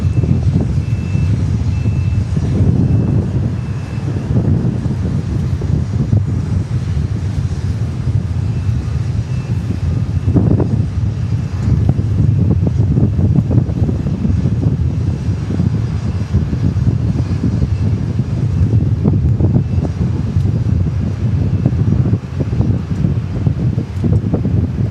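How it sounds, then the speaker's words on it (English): A passenger plane departing Dallas Love Field bound for Washington Reagan, its jet engines producing a loud, continuous roar that swells and lingers, mixed with wind noise. "we've got our next departure to Washington Reagan."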